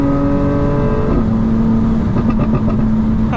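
A 2025 BMW M4 Competition xDrive tuned to about 900 horsepower rumbles loudly up close at night, its engine tone shifting as it revs with a rough exhaust burble.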